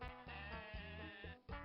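A sheep bleats in the edutainment video game Space N Blues, a single drawn-out, wavering electronic bleat that fills the moment, clear and close with a brief break near the end.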